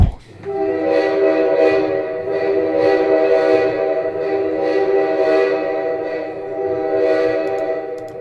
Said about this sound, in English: Funny, I just heard a train go by my house.